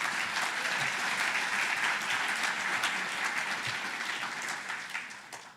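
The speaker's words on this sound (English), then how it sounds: "let's give a round of applause for our police department" Steady applause from a large crowd, dense and sustained, slowly fading toward the end.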